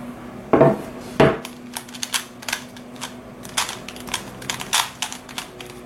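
A pyraminx puzzle is scrambled and turned by hand, giving a quick run of sharp plastic clicks and clacks, close and irregular, with no talk.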